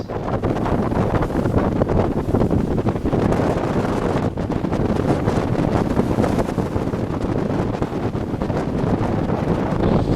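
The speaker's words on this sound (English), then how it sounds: "the wind's got up now. It's 21, 22 knots at the moment." Strong wind of about 21–22 knots roars steadily across the microphone aboard a Moody 40 sailing yacht in the Bristol Channel, a loud continuous buffeting with a faint wash of sea beneath and no talk.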